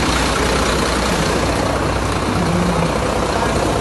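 A truck engine turns over and idles with a steady low rumble, loud and close, with no talk over it.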